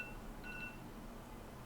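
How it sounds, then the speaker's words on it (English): An unidentified alarm gives a short, faint pair of electronic beeps in a quiet room, brief and soft against low background hiss. "not sure what that alarm is for"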